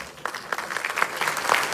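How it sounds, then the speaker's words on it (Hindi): An audience claps to welcome a minister at an Ambedkar International Centre event in New Delhi. The applause starts thin and builds into dense, steady clapping over a couple of seconds. "एक बार जोरदार तालियों के साथ स्वागत कीजिए माननीय मंत्री महोदय का"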